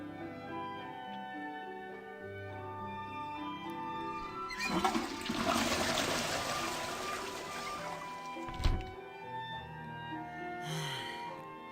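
Toilet flush sound effect in a video game, a loud rushing swirl of water lasting several seconds over soft background game music, ending with a sharp thud and a brief trickle.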